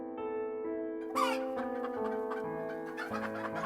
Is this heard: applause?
no